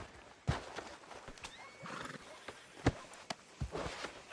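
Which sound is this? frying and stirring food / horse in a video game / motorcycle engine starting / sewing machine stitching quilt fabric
horse in a video game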